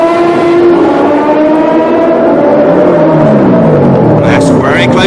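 Formula One race cars at the 1976 Long Beach Grand Prix, a loud sustained engine drone with pitch shifting up and down as cars pass, under a commentator's voice.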